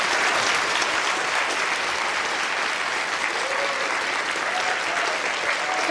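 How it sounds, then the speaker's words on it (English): An audience at a BBC Royal Institution Christmas Lecture on life beyond Earth claps for two presenters, dense steady applause filling the room throughout with faint voices underneath. "a big round of applause for Charlie and for Bruno"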